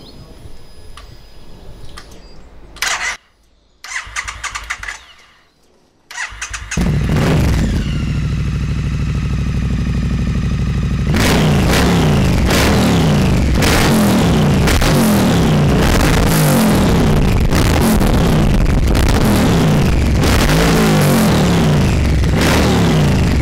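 A motorcycle with an X pipe decat unit and TEC slip-on silencers with the baffles removed starts after some clicks and handling noise, then settles into a loud idle and is blipped in repeated sharp revs, close by.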